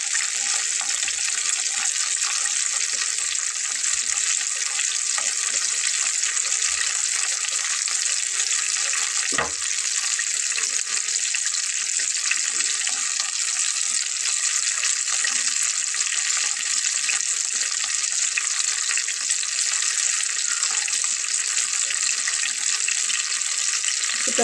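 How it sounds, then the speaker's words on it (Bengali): Eggplant snack frying in a pan over a medium flame, a steady bright sizzle running evenly throughout with one brief sharp click midway and no talk. "ভাজা হচ্ছে। চুলার আঁচটাকে মিডিয়াম ফ্লেমে রেখেছি।"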